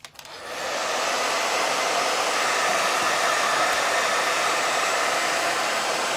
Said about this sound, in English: I'm going to hit this with the blow dryer.